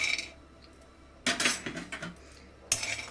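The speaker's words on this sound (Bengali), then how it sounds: "গরম কড়াইয়ের মধ্যে আমি দিয়ে দিচ্ছি বড়ি।" Dried lentil dumplings (bori) tipped into a hot, dry wok, giving a hard rattling clatter against the metal in two sharp bursts separated by a quiet pause.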